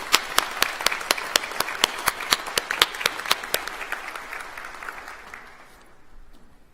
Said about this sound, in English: please join me in a round of applause in recognition of his remarkable accomplishment